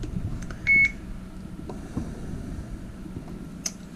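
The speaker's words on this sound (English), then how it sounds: "I'll just turn the camera on." A Drift action camera powers on, giving a short, bright electronic beep and a few faint clicks over a quiet room hum.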